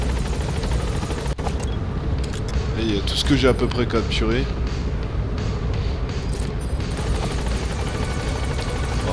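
A helicopter in the video game Metal Gear Solid 5 drones steadily with a loud, continuous rotor wash beneath someone speaking French, with some clicking game effects in the middle.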